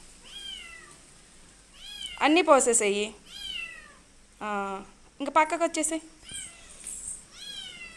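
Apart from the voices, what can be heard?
cat meowing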